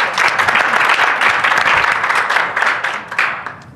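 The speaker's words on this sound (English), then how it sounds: "I think we should all give her a round of applause for that." An audience at a business case study presentation claps, a dense, loud burst of applause that holds steady, then thins and tapers near the end.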